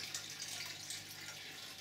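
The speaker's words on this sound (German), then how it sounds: "ich werde jetzt gleich Wasser nachfüllen" Steady water pours into a planted aquarium holding shrimp and floating plants, a continuous soft hiss and splash that stays even and moderately quiet throughout, with no voices.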